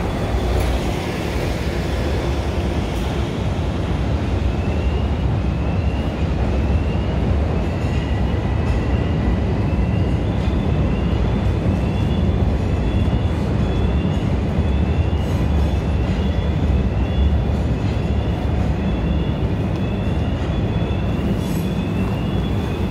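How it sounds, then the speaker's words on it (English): An elevated city train on Lake Street in downtown Chicago rumbles past steadily and loudly for the whole stretch, with metallic squealing wheel tones and broad low-frequency roar, no voices. "There's a train coming."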